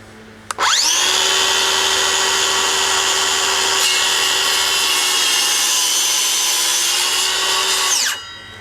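A Stanley FatMax SBC550 circular saw runs steadily through red hardwood for about seven seconds, a loud sustained whine with a grinding edge, then spins down.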